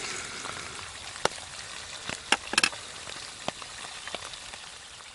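An egg frying in a pan on an alcohol stove at a wild campsite: a soft, steady crackling sizzle broken by a few sharp pops and spits, close but quiet.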